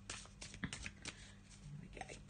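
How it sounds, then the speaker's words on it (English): Tarot cards are shuffled by hand, giving a soft, close riffling and brushing that goes on steadily with light taps and no speech. "Let's have a little shuffle."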